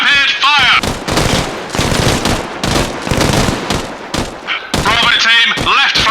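Rapid bursts of automatic rifle and machine-gun fire pour onto an enemy bunker in the military shooter ARMA Reforger, loud sustained volleys broken by brief pauses, with shouted voices cutting in between the bursts.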